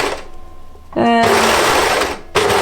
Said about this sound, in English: And this is getting serged.